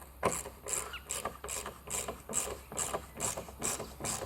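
Ratchet wrench tightening a bolt that fixes a timber fence post to blockwork, giving a steady run of about nine rhythmic clicking strokes, close and moderately loud, with no talk.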